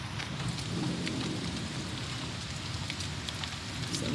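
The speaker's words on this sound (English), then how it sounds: "Thunder's actually getting louder." Steady rain patters on surfaces with a low, rolling rumble of thunder underneath, continuous and fairly faint throughout.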